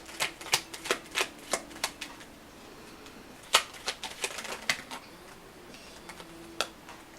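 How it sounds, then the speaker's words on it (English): Tarot cards snap and flutter out of a deck during shuffling, a quick run of sharp papery clicks followed by a few scattered flicks, close and fairly faint. "So many cards flew out."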